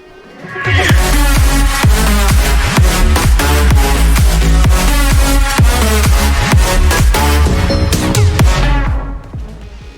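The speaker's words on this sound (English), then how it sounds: "we have to add the low pass, which is like the muffle sound" Music made in FL Studio plays through a Fruity Low Filter that muffles it, with steady rhythmic beats and dense layered tones, loud and continuous, fading in at the start and out at the end.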